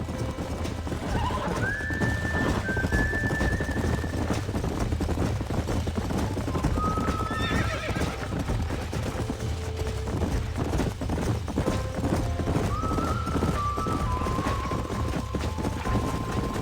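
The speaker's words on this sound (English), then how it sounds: "These are fine horses." Horses in the video game Red Dead Redemption clip-clop steadily on a ranch with a constant trotting rhythm, while three loud, drawn-out neighs ring out at intervals over the hooves.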